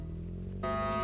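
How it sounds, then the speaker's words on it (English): A bank alarm in Roblox Brookhaven switches on partway through, a loud steady electronic tone with layered harmonic buzzing that sustains over a constant droning hum. "Bank alarm has been set up."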